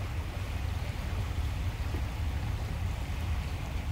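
High water laps against the Willow Point shoreline after yesterday's wind, a continuous, even, nearby churning wash with a rain-like hiss, heard alone without speech.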